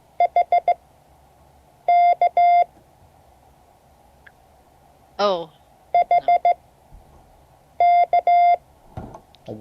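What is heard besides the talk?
Morse code tones sent as letters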